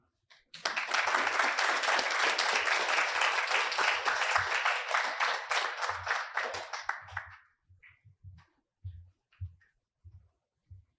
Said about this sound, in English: Another big round of applause for Professor Fatima Logan and Professor Watson.